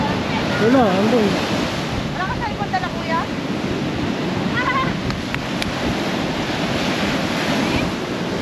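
Strong sea waves break at the shore in a steady, loud roar with heavy wind buffeting the microphone, and brief faint voices come through the surf.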